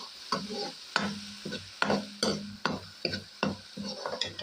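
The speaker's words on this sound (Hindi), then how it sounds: "लहसुन अदरक का पेस्ट चला गया। इसको थोड़ा फ्राई करेंगे हम।" Garlic ginger paste frying in a pan, stirred in a steady series of scraping, sizzling strokes roughly every half second, close and fairly quiet with no talking.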